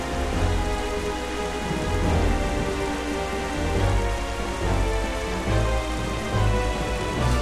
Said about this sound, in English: no matter what, it will always be raining and night like this